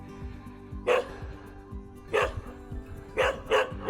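Several dogs bark outdoors in separate sharp bursts spaced irregularly, over a steady low mechanical hum in the background.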